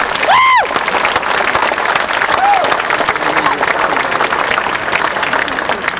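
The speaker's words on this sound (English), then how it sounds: "Give him a big round of applause, Captain Jerry Lutz." Applause for a ship's captain at the 1998 recommissioning ceremony of USS Hornet, broad outdoor crowd clapping sustained throughout, with a whistle or squeal near the start and some distant noise under it.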